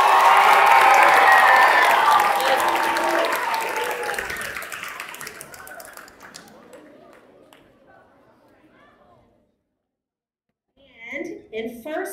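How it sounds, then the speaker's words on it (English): Audience applause and cheering at a school talent show ring out loudly, then taper off over about nine seconds into near silence before a voice begins speaking. "applause"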